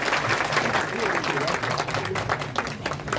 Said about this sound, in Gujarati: એ બધાને એકદમ જોરદાર તાળીઓના ગડગડાટથી આપણે ખૂબ ખૂબ આભાર વ્યક્ત કરીશું